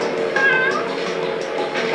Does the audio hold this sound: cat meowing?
yes